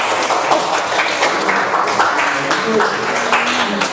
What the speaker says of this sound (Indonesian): Tepuk tangan dulu buat Yunas.